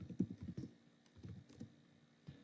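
Fingers tap out HTML code on a computer keyboard in uneven clusters of close, soft clicks with short pauses between bursts.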